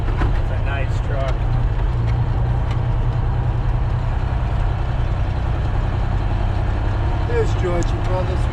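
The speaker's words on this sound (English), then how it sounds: "This truck here is always coming out." A truck's engine rumbles steadily at close range, a continuous low drone that holds an even level throughout with faint background activity.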